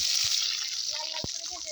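Onions and green chillies fry in hot oil in a kadai, a steady close sizzle with a couple of brief low knocks from stirring.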